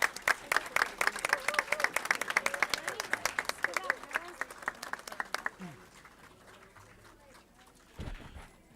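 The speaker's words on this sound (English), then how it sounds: "Let's give them a round of applause." Applause for children at a city council meeting: a room full of people clapping steadily for about five seconds, then tapering off into quieter murmuring and shuffling, with a brief low thump near the end.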